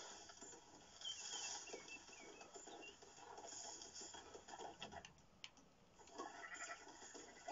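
A sheep in the video game Red Dead Redemption 2 bleats faintly a few times amid outdoor game ambience and light bird chatter, with no talking.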